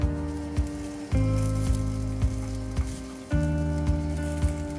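Gunta punugulu fry in a covered pan with a close, steady sizzle layered over a droning hum, broken by a few sharp pops and clicks.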